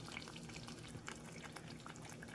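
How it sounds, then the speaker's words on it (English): Water is poured from a can into a pot of black beans, a faint steady liquid trickle and bubbling heard close up, quiet and continuous without talk. "And then what I do is I pour water in here because it needs some more broth."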